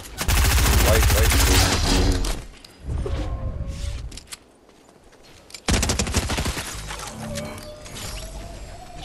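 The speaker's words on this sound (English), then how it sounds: "I hear shots over there." Rapid bursts of automatic gunfire in the video game Fortnite Zero Build, with loud close volleys at the start and again partway through, then quieter scattered shots, while players talk over it.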